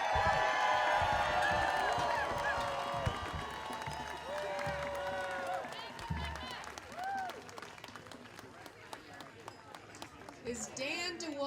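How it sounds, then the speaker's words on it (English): Crowd at an outdoor Hands Off protest rally in Brattleboro applauding and cheering, a dense steady wash of clapping with whoops and shouts over a murmur of voices, loud and sustained throughout. "Another huge round of applause for Becca."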